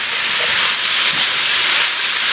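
A steady, loud sizzling hiss of a sausage and pepper mixture sautéing in hot oil for soup, continuous throughout with no pauses.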